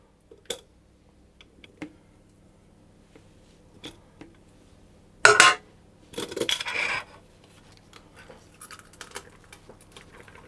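Cooked potatoes are pressed through a potato ricer: two short, mushy squeezing bursts stand out among a few quiet clicks and taps of utensils in an otherwise quiet kitchen.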